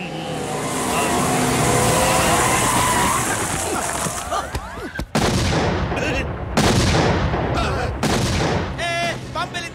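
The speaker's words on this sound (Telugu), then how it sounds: "బాంబు పేలింది." Several heavy bomb blasts burst out in quick succession, loud and booming, with crackling debris and a rumbling roar filling the gaps between them, in a comedy film scene.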